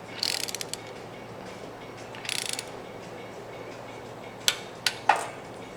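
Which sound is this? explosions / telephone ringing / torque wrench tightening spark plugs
torque wrench tightening spark plugs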